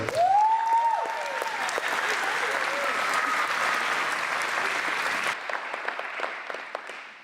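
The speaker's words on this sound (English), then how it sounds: "let's give a round of applause to this year's Community Foundation Champion Award, Miss Marcia Weller." An audience at a community foundation award ceremony claps steadily for several seconds, dense and close, thinning out toward the end; a brief voice or whistle-like tone rises at the start.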